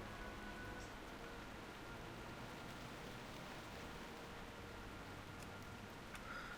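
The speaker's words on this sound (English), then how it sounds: "the rain's like too loud" Rainfall in World of Warcraft forms a dense, even hiss of steady downpour, faint and unbroken, with a few light crackles near the end.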